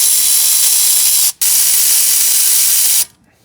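Aerosol cleaner sprayed onto a Kia Sportage front brake caliper: a loud, steady hiss that breaks off briefly once, resumes for a couple of seconds, then cuts out.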